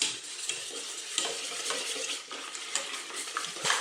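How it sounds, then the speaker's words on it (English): Eggs being whisked into pancake batter in a bowl, a quick continuous rhythmic scraping and clicking of the whisk, close and fairly quiet, with no talk. "and then I'm gonna whisk the eggs"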